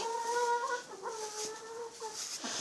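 A chicken clucking on a farm path in winter, several short, tonal, drawn-out clucks and cackles in close succession, quiet and close with no talk over them.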